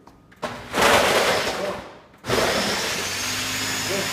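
A big blender whirs loudly in two bursts, cutting out briefly after about two seconds and then roaring again at a steady pitch while blending an acai bowl.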